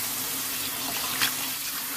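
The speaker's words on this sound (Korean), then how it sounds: "고들빼기 삭혔는 걸 지금부터 한번 씻어보겠습니다" Fermented godeulppaegi greens are rinsed under running water, a steady gentle splash and trickle from a tap with a brief louder slosh midway, no voices.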